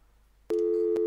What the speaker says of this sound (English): I'm trying to pick up the phone.